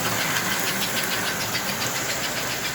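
A steady, rapid rhythmic chuffing with a hissing, mechanical hum from an O-gauge model Pacific steam locomotive running continuously nearby.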